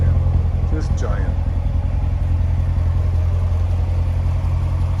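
A 2019 Chevrolet Corvette Grand Sport 2LT with automatic transmission idles with a steady deep rumble, loud and close, while someone talks briefly over it.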